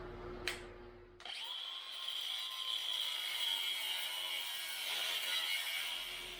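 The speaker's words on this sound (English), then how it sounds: "I'm going to use my angle grinder with a cutoff wheel and get to it." An angle grinder with a cutoff wheel cuts brackets off an axle, starting after a sharp click and settling into a steady, sustained high whine for several seconds at moderate distance.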